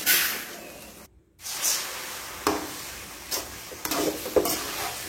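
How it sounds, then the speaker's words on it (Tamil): Vegetables and masala sauté in a hot pan, a soft steady sizzle broken by a brief silent gap and several scraping stirs of a spoon, with no talking. "மசாலாவையும் சேர்த்துட்டு நல்லா நம்ம வதக்கி விட்டுக்கலாம்."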